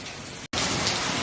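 Heavy rain pours in a dense, constant roar, broken by a brief gap of silence before resuming just as loud.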